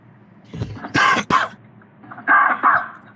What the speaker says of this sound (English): we heard that cough